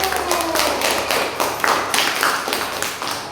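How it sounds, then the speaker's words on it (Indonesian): A classroom of students clapping together, a brisk, dense patter of many hands at close range, with a teacher's voice heard briefly near the start. "Aplaus untuk semua anak ibu"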